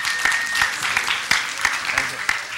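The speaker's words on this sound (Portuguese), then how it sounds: "Vamos bater palmas pro candidato aqui que se demitiu." Audience applause at a mathematics book launch lecture, dense clapping with a few sharp individual claps standing out, close and fairly loud, with a voice briefly heard over it.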